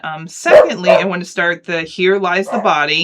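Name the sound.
dog barking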